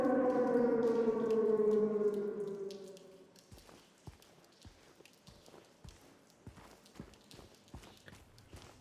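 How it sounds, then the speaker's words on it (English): A wailing air-raid siren in the Silent Hill 2 Remake game sounds loud and droning for about three seconds, then fades, leaving faint repeated footsteps clopping in the quiet darkness. "The siren, signifying the exit to the other world."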